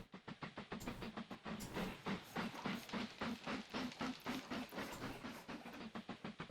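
Trains roll along the tracks in the video game Mashinky, a rapid rhythmic clickety-clack of wheels over rail joints with a faint hiss, continuous and moderately loud throughout.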